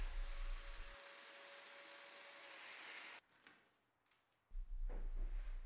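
Domino joiner cutting mortises into wooden dining table boards, a loud steady whining motor with a high tonal whine that runs for about three seconds, then stops, followed by quieter handling noises and a second burst of tool noise near the end.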